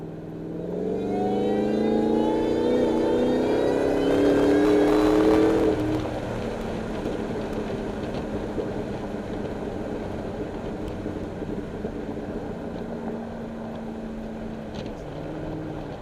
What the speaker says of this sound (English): This is ported and silencers film. The second gear pull.